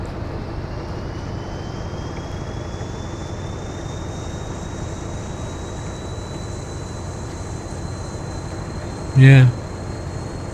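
A locomotive in the Train Sim World West Somerset line runs at full throttle, a steady heavy rumble with a slowly rising whine held throughout, and a voice briefly speaks near the end.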